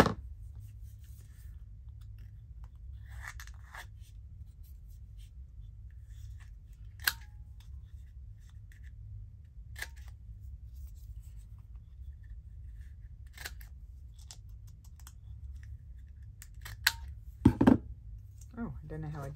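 Scissors trim paper for a journal page with a few isolated crisp snips spread over a quiet stretch, then a closer cluster of cuts near the end.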